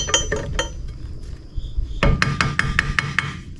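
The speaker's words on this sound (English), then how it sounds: "Make a little tap there." A hammer taps on a car part of a 1937 Packard during work near a 402 big-block intake: a run of about eight sharp metallic taps in a steady rhythm, close and fairly loud, with a few scattered knocks before them.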